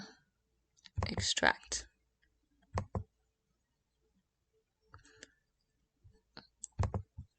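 Computer mouse clicks while extracting a zipped file on a computer: a few small, sharp clicks scattered between quiet gaps, with a person talking softly at intervals.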